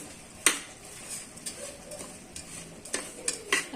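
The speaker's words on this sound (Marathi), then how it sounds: "आता मी याच्यामध्ये गुळ टाकत आहे" Jaggery being stirred into cooked lentils in a pot for puran poli, giving a few sharp spoon-against-pot scrapes and knocks over a soft background, with no talking.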